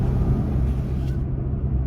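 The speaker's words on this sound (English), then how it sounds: "just to give you a little point of reference, I guess, as to what the truck sounds like" A constant low rumble inside a new Toyota Tacoma pickup cabin while driving with windows up, steady engine and road drone without speech.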